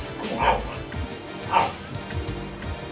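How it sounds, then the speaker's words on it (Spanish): A frightened female dog in a bedroom whimpers and gives short yelps while thunder rolls outside, two clear whining cries about a second apart followed by softer snuffling sounds. "está mi perra, que tiene miedo porque está tronando y tal, y está en mi habitación en plan haciendo sonidos de perra"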